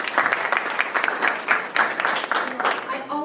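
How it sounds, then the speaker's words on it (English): Applause from an event audience at AMIDEAST, a lively, uneven round of clapping with some voices mixed in, fairly loud and close throughout. "Let's give them a big round of applause."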